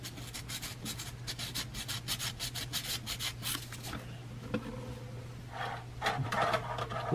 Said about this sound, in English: I want to try and sand this without damaging